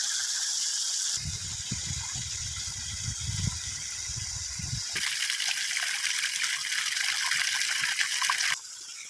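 Irrigation water gushes and flows steadily along channels to banana and coconut trees on a farm, a constant outdoor rush with a low rumbling stretch early on and no talk.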